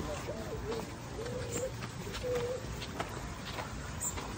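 Pigeons or doves coo at a bird sanctuary in the Cayman Islands, with several soft calls repeating over steady outdoor background noise while people talk nearby.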